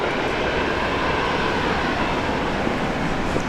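A Jetstar airliner departing runway 19 right at Brisbane airport gives a steady, loud, broadband engine roar that holds constant throughout, with no voices.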